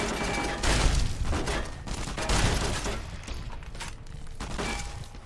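Shotgun blasts in the video game Fallout New Vegas, several loud bursts at irregular intervals with rumbling decays and mechanical clatter between them.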